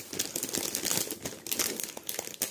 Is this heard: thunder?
no